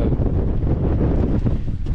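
Strong wind buffets the microphone while riding an electric mountain bike down a valley floor, a loud, continuous low rumble and roar with uneven gusty surges throughout.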